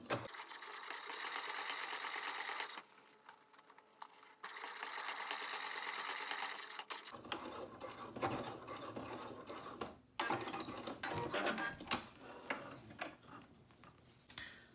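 Sewing machine basting fabric onto foam stabilizer for bag making with a 1/8 inch seam allowance, a close, steady mechanical whir that runs in long bursts, stops briefly, then resumes with lighter ticking and handling noises.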